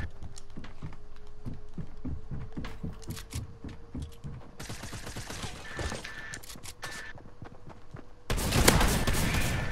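Pistol gunfire in a video game, with repeated sharp shots in an uneven, steady rhythm against other game noise, followed by a louder burst of sustained fire near the end.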